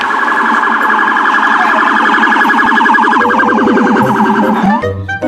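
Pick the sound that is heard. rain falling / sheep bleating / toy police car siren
toy police car siren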